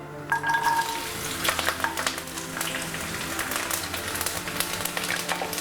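Thinly sliced garlic fries in hot oil in a kadai, giving a steady, close crackling sizzle with scattered sharp pops throughout.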